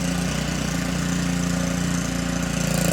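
A repaired Makita 4-stroke brush cutter engine idling steadily, an even, continuous mid-pitched drone heard up close without talk.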